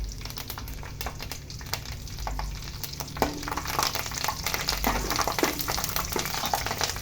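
Curry leaves and green chillies frying in plenty of oil for a goat bothi curry, a loud crackling sizzle with scattered sharp pops and stirring clatter, close by.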